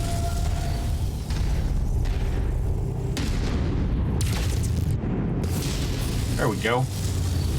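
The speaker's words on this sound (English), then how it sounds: "Just hitting the top of the hill there with the PPCs" PPC particle cannon shots from a mech striking a hilltop in MechWarrior 5, heavy booming energy blasts and rumbling impacts over constant engine drone, with someone talking briefly and a warbling electronic tone near the end.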